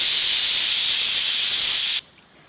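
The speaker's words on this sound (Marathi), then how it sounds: "चौथी शिट्टी झाली, गॅस बंद करते" Pressure cooker whistle on a gas stove, cooking mutton biryani, letting out a loud, sharp hiss of steam that holds steady for two seconds and then cuts off abruptly, leaving quiet.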